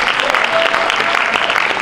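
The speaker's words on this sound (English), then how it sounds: "let's give a round of applause" Brief burst of steady clapping from an awards-ceremony audience, dense and even, with faint crowd murmur underneath.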